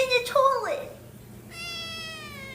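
A house cat meows loudly and close by, giving a drawn-out falling cry and then a steadier, wavering yowl.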